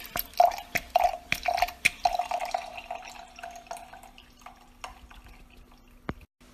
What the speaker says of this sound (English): and then it pours some wine.